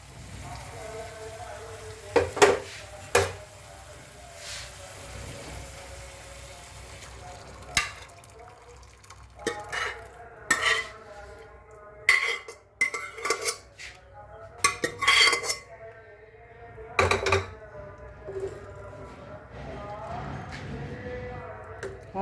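Chana dal tipped into a cooking pot of ghee and spices, then stirred, with sharp scattered clinks and scrapes of a metal spoon against the pot, some sizzling and a voice talking throughout.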